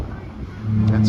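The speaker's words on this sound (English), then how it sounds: "That's our horns." Deep, sustained cruise ship horn sounding in a narrow channel during a horn exchange with a passing ship, starting partway through and holding steady and loud to the end.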